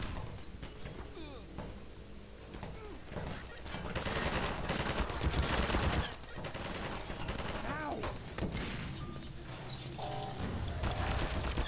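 Automatic turret gunfire in Half-Life 2, dense rapid bursts rattling through most of the stretch, loud and close, mixed with clinks and other game effects.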